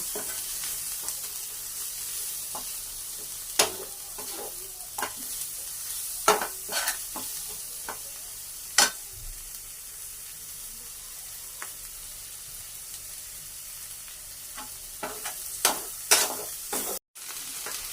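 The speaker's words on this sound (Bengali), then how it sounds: "টমেটো এগুলা দিয়ে একটু ভেজে নিব" Tomatoes frying in a pan with a steady soft sizzle, punctuated by occasional sharp spatula scrapes and taps, close by with no talking.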